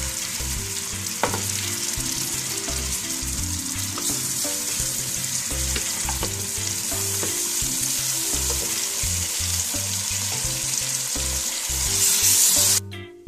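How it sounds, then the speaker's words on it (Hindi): Blended onion and tomato added to a pan with garlic paste, sizzling loudly and steadily with stirring taps, a low hum underneath and a sharp stop at the end, no talking. "अब मैं इसमें प्याज और टमाटो जो हमने ब्लेंड किया वो इसमें ऐड करती हूँ"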